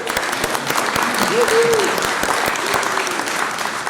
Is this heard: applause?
yes